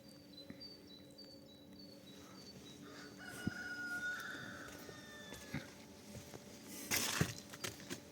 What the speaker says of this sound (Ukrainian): Півні співають.